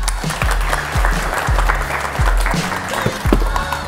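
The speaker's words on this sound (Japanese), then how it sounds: "拍手。" Applause from a group of basketball players at Hokuriku High School's gym, steady clapping with low thumping bursts throughout, welcoming a visiting Kawasaki Brave Thunders alumnus.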